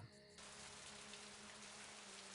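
Steady rain drizzle in the Agatha Christie: And Then There Were None video game, a continuous dense patter that starts right away after a brief moment and holds evenly throughout, faint in level.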